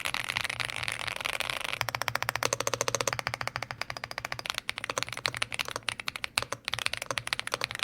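Fast, steady typing on an AULA F75 Max creamy mechanical keyboard, with a dense run of close, soft clacks and a few heavier keystrokes, alone.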